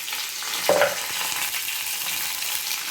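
Mustard seeds and curry leaves sizzling in hot oil for an okra dish, a steady close hissing fry with a brief louder burst of spattering near the start, no voices.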